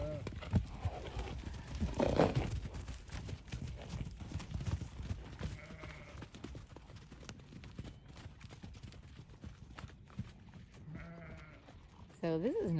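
Sheep bleat in short calls around horses, with steady clip-clop of hooves and an occasional whinny, fairly quiet and outdoors, with people talking at times.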